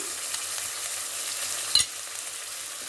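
An onion-tomato masala with curd for paneer butter masala fries with a quiet, steady sizzle, and one sharp scrape of stirring cuts through midway.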